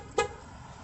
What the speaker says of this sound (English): two honks, two flashes.